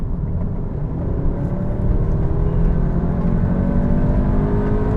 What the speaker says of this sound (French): Petite accélération pour le plaisir encore.